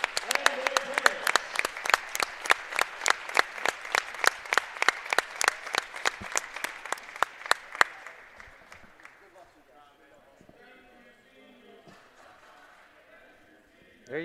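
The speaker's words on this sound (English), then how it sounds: "one more big round of applause to all our seniors and their parents" At a high school varsity basketball game, a crowd claps in a steady rhythmic beat for the seniors and their parents. The clapping thins and fades after about eight seconds, leaving quiet gym murmur and distant voices.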